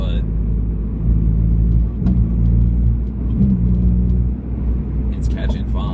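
A 2002-2004 Acura RSX Type-S engine hums at a steady low idle with the clutch engaged, a close continuous rumble with slight pitch shifts while someone talks over it.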